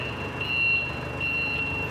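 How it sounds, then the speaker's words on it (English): Two steady, high-pitched beeps of a reversing forklift's warning alarm sound close by over a low mechanical rumble, as it lowers a pallet onto warehouse shelving. "That beeping tells us that the forklift is reversing."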